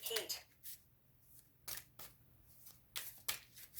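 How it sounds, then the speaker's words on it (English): Tarot cards being shuffled by hand, faint close riffles and soft slides in a few short bursts separated by quiet pauses, with no talking. "I'll keep shuffling until one pops out"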